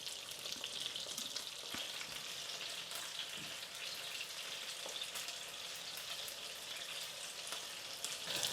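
Haddock fillets fry in a pan, browning before a tomato sauce goes in, giving a steady, close, dense sizzle with faint crackles throughout and no talking.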